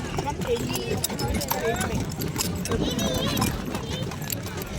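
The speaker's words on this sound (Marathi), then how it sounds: "आपला घोडा पळतोय" A horse runs with steady hoof clip-clops over a continuous rumble of motion, while people talk nearby throughout.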